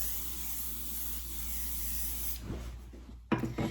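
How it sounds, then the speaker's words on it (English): A steady aerosol hiss sprays close by for a couple of seconds, then a few short bursts and a soft rustle follow. "I'm just going to spray the curls again"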